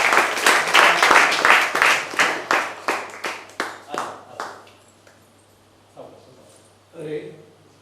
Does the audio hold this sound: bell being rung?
no